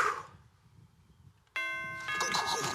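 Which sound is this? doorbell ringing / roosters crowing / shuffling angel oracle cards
doorbell ringing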